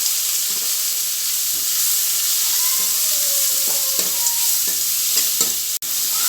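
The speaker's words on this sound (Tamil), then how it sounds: "நம்ம எல்லாத்தையும் சேர்த்து நல்லா வதக்கிக்கலாம்" Curry leaves and turmeric sauté in a pan with tomatoes for hotel-style poori potato masala, giving a steady close sizzle and hiss broken by a few light stirring clicks, with no talking.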